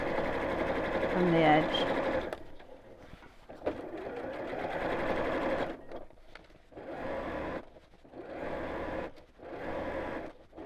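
A sewing machine stitches a narrow seam about 1/8 inch in from the fabric edge of a fat quarter storage box, set to a 2.8 stitch length. Someone talks first, then several close, steady runs of stitching start and stop.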